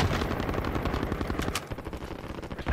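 Rapid, sustained automatic gunfire aimed at the player in the video game Warzone: dense, loud bursts of shots rattling continuously for the whole stretch, with no talking.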